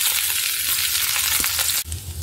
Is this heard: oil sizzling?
yes